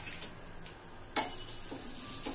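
Cabbage paratha frying in a pan with butter gives a quiet, steady sizzle, broken by a sharp scrape or tap partway through and a few faint clinks.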